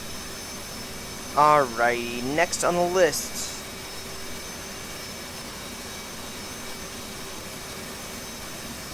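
Twin engines of an F/A-18C idling steadily after startup in the DCS World flight simulator, a constant broadband jet whine and rumble throughout, with someone talking briefly over it early on.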